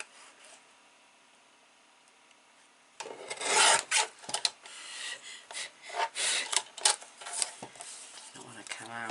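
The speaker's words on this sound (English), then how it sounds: "I'm just going to basically chop this piece in half." Paper strip for a Graphic 45 Flutter 8 x 10 album being chopped in half with a scissors-like rasp, a burst of close cutting and rubbing sounds after a quiet start, with occasional talk.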